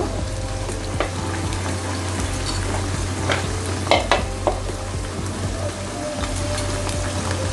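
Hilsa fish fries in a pan, Barisal style, with a steady, close, dense sizzle and scattered sharp spits and crackles throughout.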